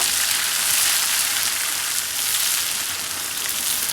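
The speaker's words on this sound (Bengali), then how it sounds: "এবার দিয়ে দেবো সেই ব্লেন্ড করা পেঁয়াজ আর কাঁচামরিচ। এটা বেশ কিছুক্ষণ আমি ভেজে নেব" Steady, close sizzling of blended onion and green chili paste frying in hot oil, a continuous hiss with no voices.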